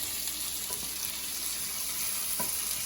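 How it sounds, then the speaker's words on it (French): Onions sauté in oil for a fish sauce, giving a loud, steady, close sizzle throughout with a couple of faint knocks of stirring. "Donc on va faire revenir les oignons pendant quelques minutes."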